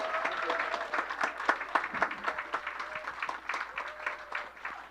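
A church congregation at a Sunday morning Christmas service applauds the hidden puppeteers, a fairly quiet round of clapping with faint tonal sounds mixed in beneath it.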